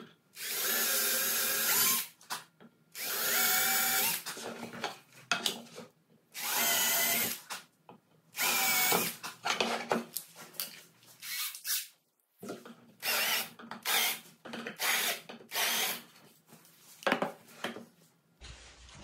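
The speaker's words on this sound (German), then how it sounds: "dann bohre ich ein Loch durch" A power drill bores a hole through wood pieces while a hand plane is converted into a jointer plane, in repeated loud whining bursts of a few seconds each, separated by short pauses.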